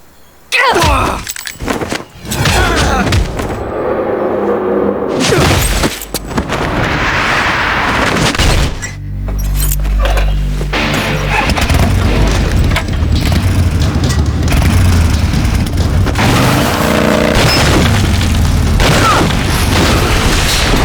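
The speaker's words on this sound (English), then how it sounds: "Shots." Gunshots and explosions in the Metal Gear Solid 3 video game, loud booming blasts and sharp reports, with dense, continuous cinematic sound between the hits.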